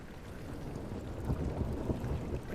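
Heavy rain pours steadily in the dark horror game Amnesia: The Dark Descent, a dense, constant roar with low rumbling weight that swells slightly midway and stays loud throughout.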